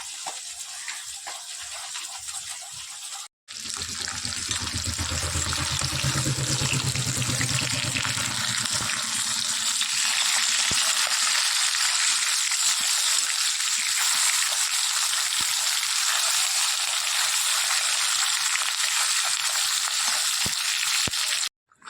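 Fish pieces fry hard in oil in a wok, a loud continuous crackling sizzle that holds steady for about twenty seconds, with a brief softer patch at the start and a few faint clinks.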